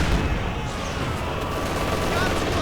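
Maxim machine gun firing in a World War strategy video game, a dense continuous rattle of rapid shots mixed with distant battle noise, loud and unbroken for a few seconds.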